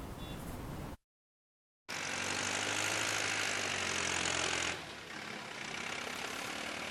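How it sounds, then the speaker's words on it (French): Tractor engine rumbling outdoors in a rural field, a steady loud drone that drops slightly in level partway through, following a brief cut of silence. "Le vrombissement de ce tracteur"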